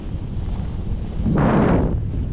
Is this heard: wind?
yes